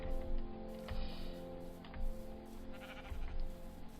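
A sheep bleats in a blocky video game, a few short in-game bleats from the animal far down at the bottom, sounding over steady background game ambience and a low hum.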